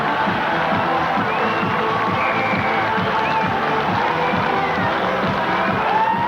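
Rugby league crowd at a Featherstone versus Leeds cup match roaring in a sustained cheer, broad and steady with whistles and shouts rising from the stands.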